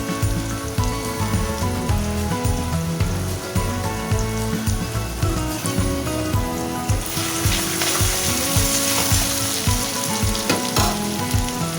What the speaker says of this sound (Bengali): ওই তেলের মধ্যে আমি পেঁয়াজগুলো দিয়ে দেব